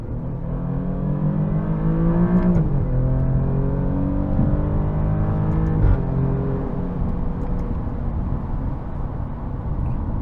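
Alfa Romeo Giulia Quadrifoglio being driven, its engine droning steadily from inside the car, rising through the revs and then dropping with two gear shifts, no voices over it.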